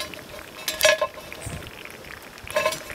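A wooden spoon stirs peanut porridge in a pot over an outdoor wood fire in Jamaica, giving two short bursts of scraping and knocking close by, with quieter simmering between them.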